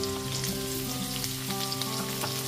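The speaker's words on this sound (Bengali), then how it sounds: "যেহেতু এই সবজিগুলো একটু সেদ্ধ হতে সময় লাগে, ওই জন্য আগেই এই সবজিগুলোকে ভেজে নিচ্ছি।" Cauliflower pieces fry in hot oil in a pan while a spinach ghonto is being cooked, giving a steady, close sizzle with faint crackle that runs evenly and continuously, with no talking.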